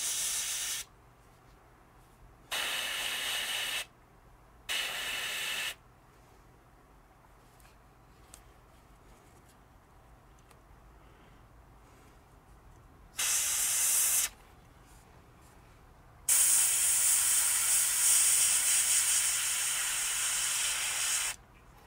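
Airbrush spraying paint onto an HO scale model sedan in short separate hissing bursts of about a second each, then a longer steady spray toward the end, with quiet pauses between.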